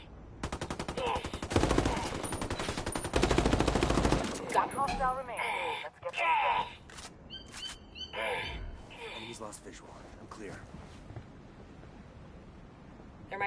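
Video game gunfire: dense bursts of automatic weapon fire and single shots in rapid volleys, loud at first and then thinning into scattered sporadic shots, with voices talking over the action.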